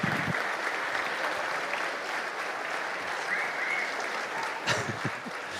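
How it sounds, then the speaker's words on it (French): Steady, loud applause from an audience at a festive Baptist Federation evening, greeting the federation's president; dense clapping runs continuously with no voices over it. "On l'applaudit."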